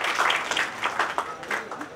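An audience at a college function at Devgiri College in Aurangabad applauds in close, lively bursts of clapping that rise and fall over two seconds.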